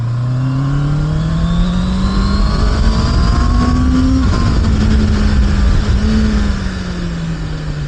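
A Honda CBR650R motorcycle engine with E-clutch droning steadily while riding, its pitch rising as it accelerates, briefly dipping between gear changes, then easing off near the end.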